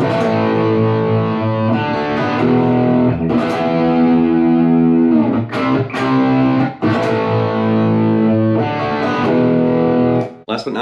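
Heavily distorted electric guitar chords ring out loud and sustained, changing every couple of seconds with brief scratchy pick noises between.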